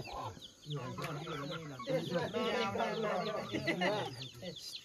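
Chickens cluck continuously and fairly close in a rural Nepali village, a busy run of overlapping, choppy calls that rise and fall over several seconds.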